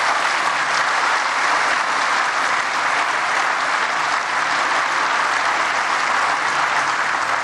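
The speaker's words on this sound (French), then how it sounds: "qu'on les applaudisse encore bien," An audience gives conservatory children loud, continuous applause at a formal speech event with the French president present, a dense, even wash of clapping that holds throughout.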